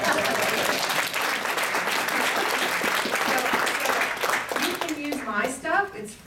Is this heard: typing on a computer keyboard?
no